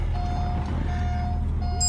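Steady electronic beeping from a K40 radar detector inside a 1998 Porsche 911 Carrera Targa (993), repeating tones over the low hum of the idling car and its air conditioning.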